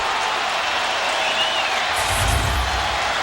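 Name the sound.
football stadium crowd cheering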